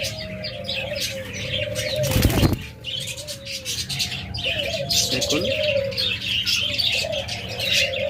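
Many caged lovebirds, budgerigars, Java sparrows and cockatiels chirp and coo continuously, with a burst of wing flapping midway and someone speaking briefly over the chatter.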